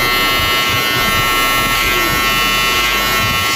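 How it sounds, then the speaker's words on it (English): An electric hair trimmer buzzes steadily and up close while cutting coarse hair, a constant bright whine with scratchy texture and no pauses. "Slightly angling my trimmer up that way."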